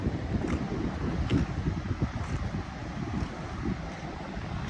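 Wind buffeting the microphone over ocean surf at Ocean Beach, San Francisco, with continuous low rumbling gusts and faint periodic hiss from waves, no voices.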